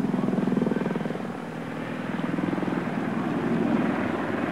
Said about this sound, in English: This one is in fact a Royal Naval Lynx from 702 Squadron at Yeovilton, flown by Lieutenant Les Port.